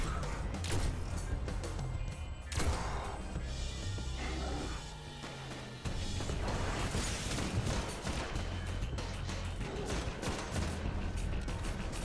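Sniper rifle shots fired at a boss in Destiny ring out as repeated sharp blasts among a dense, steady barrage of gunfire and impacts, loud and close throughout.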